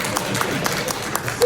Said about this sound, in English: That is a big round of applause there for inverted gaming.